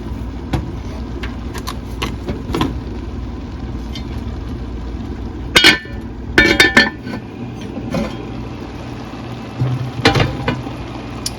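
Seasoned cabbage cooks down in a lidded pot with a steady, low sizzling hiss. Scattered sharp clinks and rattles of the lid and utensils break through, loudest around the middle and near the end.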